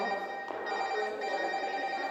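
A telephone rings steadily at moderate level with a bright, sustained electronic tone, alone and without voices.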